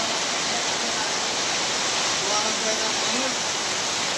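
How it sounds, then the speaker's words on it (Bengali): Very heavy rain pouring down outdoors, a dense, loud, unbroken roar of rushing water with no breaks, close and steady throughout. "এমন বৃষ্টি আমার জীবন আর কোনো দেখিনি"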